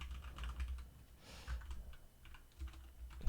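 Someone types HTML code on a computer keyboard, including a Ctrl+S save: a quick run of close, clicky keystrokes in uneven bursts, with no talk over them.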